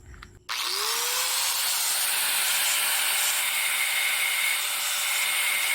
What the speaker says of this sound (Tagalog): So gagrinderin na natin to